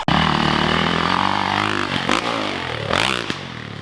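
A dirt bike rides a rough backyard woods motocross track, its engine loud and close with steady high revving, then sharp throttle blips and dips as it lands and shifts, with no talking.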